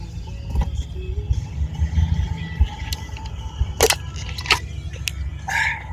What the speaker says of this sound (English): Pull up in the driveway, and park.